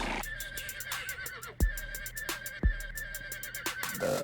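A horse neighs loudly and repeatedly in short whinnying bursts, with a couple of heavy thumps and a steady background hum.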